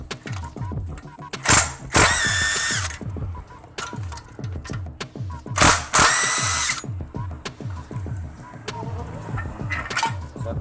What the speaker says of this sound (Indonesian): Kita lepas baut silinder head menggunakan kunci